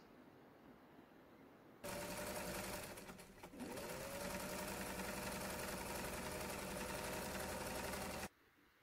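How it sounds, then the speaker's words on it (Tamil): Sewing machine running steadily for several seconds while laying a double stitch along a curved seam on children's pants, a loud continuous mechanical whir with no talking. "அதில் அந்த இடத்துல வந்து நான் டபுள் ஸ்டிச் கொடுத்துக்கிறேன்."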